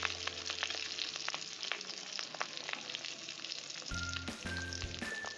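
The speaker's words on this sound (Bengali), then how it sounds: "ডিম ভাজতে গেলে খুব ফাটে, একটু নুন ছড়িয়ে দিই চারিদিকে" Rohu fish roe frying in a pan with salt scattered around it, a faint, steady sizzle with scattered crackling pops, joined toward the end by a low humming tone and brief clinks.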